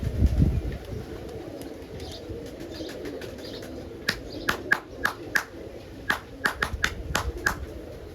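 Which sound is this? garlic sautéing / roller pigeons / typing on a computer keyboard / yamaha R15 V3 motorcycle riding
roller pigeons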